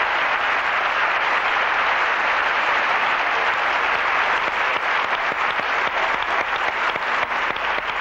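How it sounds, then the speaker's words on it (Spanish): A theatre audience at Teatro Boulevard applauds during a 1992 radio broadcast, a dense, loud, continuous roar of clapping hands that grows slightly more crisp and rhythmic toward the end. "el aplauso desde el Teatro Boulevard para todo Radiolé"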